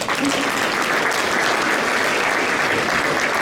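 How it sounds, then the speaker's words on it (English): Audience applause at a charity awards luncheon, a dense, even roar of many hands clapping, loud and sustained with no talk over it. "but still, round of applause."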